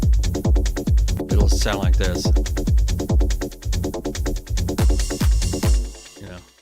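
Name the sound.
techno kick drum pattern with silent kicks before change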